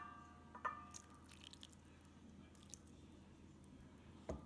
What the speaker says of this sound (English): I'm going to go ahead and add a little bit of water.